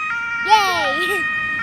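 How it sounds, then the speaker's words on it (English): An ambulance siren wails with a rising and falling tone over a steady background hum, fairly clear and moderately loud. "Ambulance."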